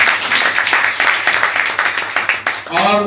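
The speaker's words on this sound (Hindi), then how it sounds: "और जोरदार ताली बजाइए।" Audience at a panel discussion and experience-sharing session claps loudly and steadily, many hands in a dense close patter, before a voice starts speaking near the end.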